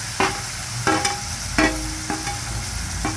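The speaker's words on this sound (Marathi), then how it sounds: "मीडियम फ्लेमवर गॅस ठेवलेला आहे हे असं हलवून घेऊ हां हे तिखट टाकू" Spices and a tomato-coriander paste are stirred and fried in a pan over a medium gas flame for a liver fry dish, a steady sizzle broken by regular scraping strokes of the spoon, close and fairly loud.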